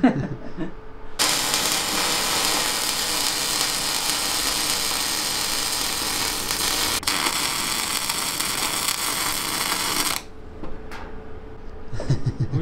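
Cebora Poket Pulse welder welding a barbecue grill for a café: a loud, steady crackling hiss lasting about nine seconds, with brief quieter handling noise before and after.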